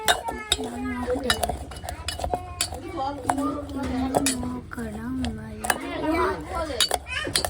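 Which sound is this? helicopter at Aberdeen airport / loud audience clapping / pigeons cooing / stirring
stirring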